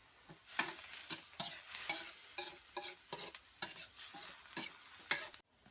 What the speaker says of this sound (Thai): อาปลาไหลลงแล้วก็อู้ปลาไหลไว้ก่อนพิดฝา